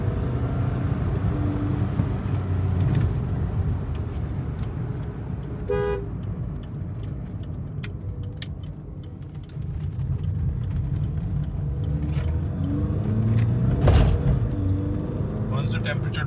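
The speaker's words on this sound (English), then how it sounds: "As you can see, now turbo is kicking in." A VW Vento with a 1.5 TDI engine pulls harder as its turbo kicks in, a low engine drone rising and falling under near-constant talk from inside the car, with a brief horn toot partway through.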